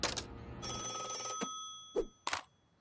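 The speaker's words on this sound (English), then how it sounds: "Hotline phone?" A cartoon hotline phone rings with a bright, trilling electronic bell, followed by a couple of short clicks and knocks as the sound cuts off into quiet.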